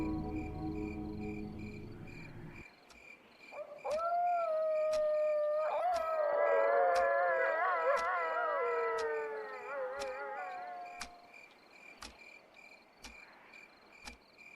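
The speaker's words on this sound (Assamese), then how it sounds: "দূৰৰ পৰা ভাহি আহিছে কুকুৰৰ আৰ্তনাদ" At night, several dogs howl in long, wavering, overlapping wails from a distance, while crickets keep up a steady, regular chirp before, under and after the howling.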